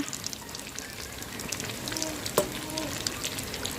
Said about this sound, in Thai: เมื่อน้ำมันเริ่มร้อนแล้วนะคะ ไม่ต้องรอให้ร้อนจัดค่ะ ก็ใส่ ไข่ลงไปเลยค่ะ